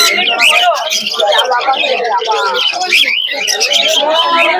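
Pigeons and other caged birds at the crowded Krishnanagar pigeon market in Nadia chirp, tweet and coo continuously and loudly up close, layered over busy crowd chatter with people talking throughout.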